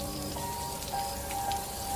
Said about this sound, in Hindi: तभी अचानक एकदम से बारिश शुरू हो जाती है।